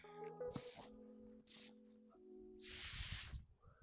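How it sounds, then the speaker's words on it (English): Short, sharp blasts from a dog training whistle during a cocker spaniel puppy's hunting and retrieving session: two brief toots followed by a longer steady blast, loud and clear over an otherwise quiet background. "My whistle's not coming out very good today."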